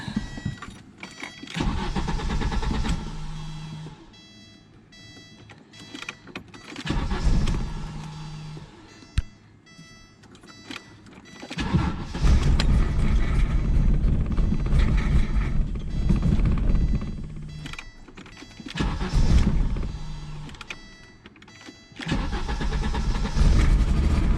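A 1985 Audi GT Coupe with a five-speed, long stored in a barn, cranks repeatedly in several close, loud bursts, with quieter pauses between attempts, before the engine catches and runs roughly with a heavy miss.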